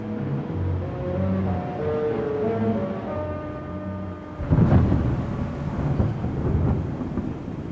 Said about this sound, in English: there was a loud clap of thunder